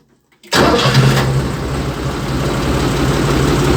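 A Foton 244 tractor engine, freshly repaired, catches abruptly after a moment of quiet and settles straight into a loud, close, chugging diesel idle with an even rumbling beat.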